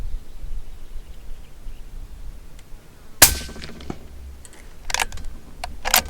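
A 22-250 rifle firing a 53 grain V-MAX round lets off one sharp, loud crack midway through, on a prairie shoot at about 175 yards. Quiet outdoor noise surrounds it, with a few faint clicks afterward.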